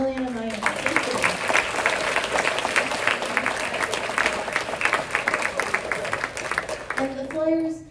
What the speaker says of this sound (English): I want to give another round of applause, please, to Miliana Maya.